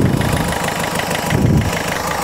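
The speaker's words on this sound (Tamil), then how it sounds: "இப்போ இந்த வண்டியை ஸ்டார்ட் பண்ணியாச்சு." A used car's engine, just started, idles steadily with a low, even rumble and a slight knocking texture, close and alone with no voices.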